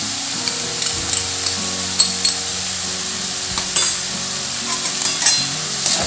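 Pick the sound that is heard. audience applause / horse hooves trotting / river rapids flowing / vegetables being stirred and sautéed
vegetables being stirred and sautéed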